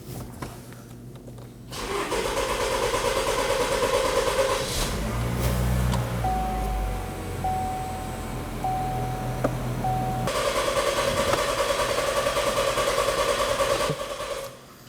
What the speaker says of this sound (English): Now we're going to start the vehicle and run the engine until it stalls out.